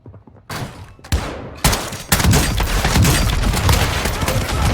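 Shotgun gunfire in the video game Call of Duty DMZ: a few loud single blasts in quick succession, then a dense, continuous barrage of overlapping shots and booms.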